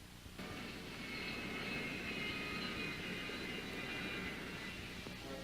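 A Skyray jet fighter flying past, its engine roaring steadily for several seconds, a powerful jet rush that holds close and strong throughout with no voices.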